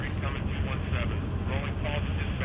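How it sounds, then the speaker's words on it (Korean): Steady droning rotor and engine noise of a helicopter in The Walking Dead zombie game, continuous and fairly loud, with someone talking over it. "헬기도 떴어요 지금."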